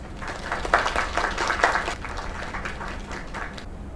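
Applause from a crowd at a party night in the video game Lake, a steady patter of many hands with a couple of louder swells, filling the clip with no talking.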